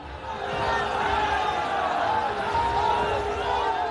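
Dense crowd noise fills the street as a large throng gathers for Amit Shah's one-kilometre road show in Bolpur, Birbhum district, West Bengal: a steady, loud wash of voices and shouts with no pauses throughout.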